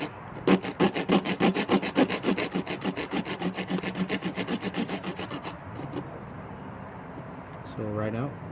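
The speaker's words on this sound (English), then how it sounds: "And I'm using this little saw thing." Small hand saw cutting a kukri handle, a quick run of rhythmic rasping strokes, close and clear, that slows and stops, followed by a brief voice.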